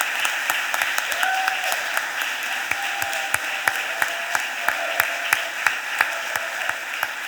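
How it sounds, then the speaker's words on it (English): Applause at a Philadelphia City Council stated meeting for an honor-roll student sports team, a sustained crowd clapping with sharp individual claps standing out and a brief whistle or cheer over it. "Please give them a round of applause"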